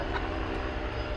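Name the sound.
Atlas Air Boeing 767 airliner passing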